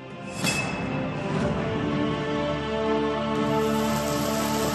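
Steady rain falls on farmland planted with vegetables such as cauliflower and pointed gourd, a continuous broadband wash of drops with no voices.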